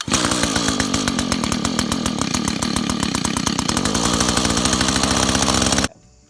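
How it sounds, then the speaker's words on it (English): A two-stroke Echo string trimmer engine with a newly replaced carburetor runs at a fast, even buzzing rhythm, loud and close, before cutting off abruptly into quiet. "It actually started on the first pull this time, but it typically doesn't."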